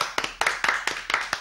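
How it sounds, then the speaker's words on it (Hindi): An audience claps in a steady rhythm, with about seven sharp, close claps evenly spaced and no talking over them. "देखिए जरा एक बार फिर तालियां बजाएं।"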